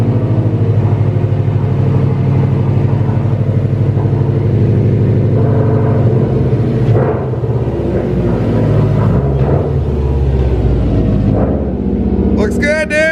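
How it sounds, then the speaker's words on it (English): A Subaru WRX STI on a test drive after a Fortune Auto 500 suspension install, heard from inside as a steady, loud engine drone and road rumble, with people chatting near the end. "So we'll do a test drive, make sure nothing rubs"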